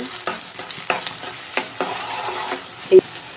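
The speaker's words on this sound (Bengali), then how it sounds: "প্রথমে আমি পেঁয়াজগুলো ভেজে নিচ্ছি।" Onions fry and sizzle in a pan for goat curry, with a steady crackle broken by several sharp scraping stirs and a louder clatter near the end.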